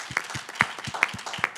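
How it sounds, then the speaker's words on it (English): A few scattered claps from a biotech industry conference audience, spaced at a slow, even rhythm, fairly close and brief, with no sustained applause swell. "I think it's worthy of another loud round of applause."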